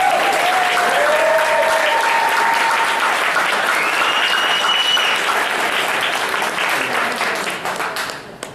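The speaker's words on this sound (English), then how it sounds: "So if we can give an applause for Crystal." Full audience applause at a talk event, loud dense clapping sustained for several seconds before tapering off at the end.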